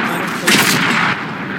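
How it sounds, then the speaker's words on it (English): Artillery shell fire in World of Tanks, a loud, broadband blast that swells at about half a second and holds steady before easing off, with no voices. "Heads up, artillery."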